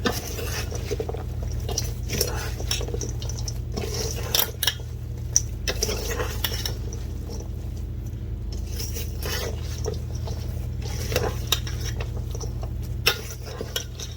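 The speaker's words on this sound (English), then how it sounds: "now I'm just stirring to combine" Apple chickpea salad mixture dressed with tahini and maple syrup, stirred steadily in a bowl with a utensil, with continuous soft scraping and clinking against the bowl.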